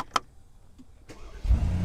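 A Brabus G-Wagon engine started with the start-stop button: a click, a brief starter whir, then the engine catches into a deep, loud rumble close by.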